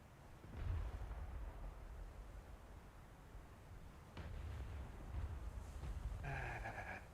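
A naval vessel fires on the player in a video game: heavy, distant artillery booms and rumbling blasts roll out at irregular intervals.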